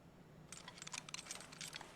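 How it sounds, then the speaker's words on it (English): Quick clusters of small clicks rattle as straps are fastened in Fragile Dreams, a brief crisp burst of tapping after a quiet moment. "Did you clothes. fasten my sides until they made a clicking sound?"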